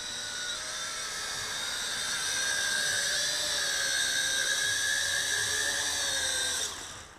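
A UDI U818S quadcopter drone hovers in to land with a steady, loud, high-pitched whine of its propellers, holding constant for several seconds before dropping away as it touches down.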